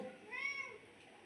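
A cat gives a single short meow, moderately close and clear, in a quiet home kitchen setting with no talking.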